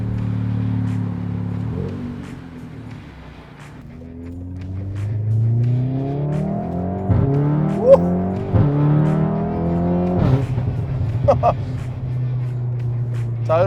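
A tuned Mk7 Volkswagen Golf R hatchback engine revs up through several gears, pitch climbing and dropping with each shift, loud and close, with brief pops between shifts.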